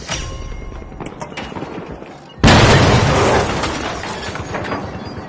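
A detonation goes off in The Finals as one abrupt, loud boom with a sustained crackling, rumbling tail. Busy game noise comes before it.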